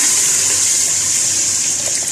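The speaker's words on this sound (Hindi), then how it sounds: "अब इसमें हम लोग डाल देंगे तकरीबन 1 किलो के करीब पानी," About a kilo of water gushes steadily into a pot of spice-browned meat for haleem, a loud continuous pour with no talk.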